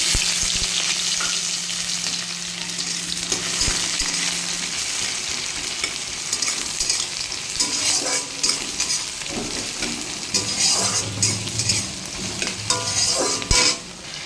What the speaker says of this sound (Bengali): তো দেখো আলু দিয়ে দিয়েছি চিংড়ি মাছটাও দিয়ে দিয়েছি একটু ভাজা ভাজা হচ্ছে